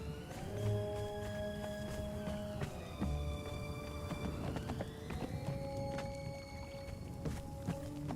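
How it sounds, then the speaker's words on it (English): A horse arrives in a video game to steady clip-clopping hooves, with tonal game music and chimes sustained throughout. "Now my horse came."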